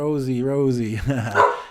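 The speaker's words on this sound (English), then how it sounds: "That's my dog, guys." A household dog gives a drawn-out, whining bark, close and fairly loud, its pitch wavering before it breaks into a rougher yelp at the end.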